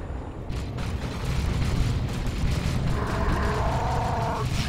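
Stick bomb explosions in Dawn of War 2: Retribution, Elite Mod, rumbling as a dense, continuous low roar of blasts amid loud battle noise, with no clear separate bangs.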